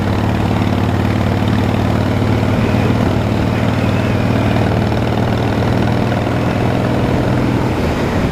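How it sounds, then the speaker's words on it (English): A Honda Valkyrie 1500cc cruiser motorcycle idles on a ride in Cyprus, giving a steady, close, low engine rumble that holds constant and unbroken for several seconds, with no voices over it. "I think there's a guy on a Honda Valkyrie cruiser."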